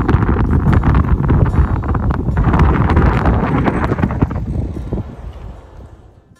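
Strong wind buffets the microphone at a sunset viewpoint, a loud continuous roar with gusty fluctuations that fades away over the last couple of seconds.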